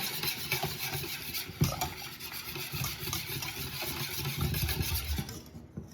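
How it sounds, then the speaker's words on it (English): Milk and yogurt are stirred together in a bowl for scone liquid, a continuous soft rubbing and swishing, close by, with a low steady hum beneath. "Stir that together."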